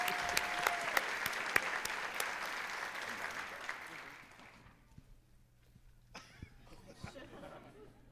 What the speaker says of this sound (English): giving these outstanding young alumni one final round of applause